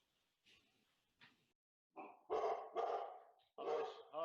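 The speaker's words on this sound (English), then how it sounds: "Maybe it's dogs barking in the background." Dogs bark in short bursts, a few faint yips first, then louder clustered barks close to the microphone, with no talk over them.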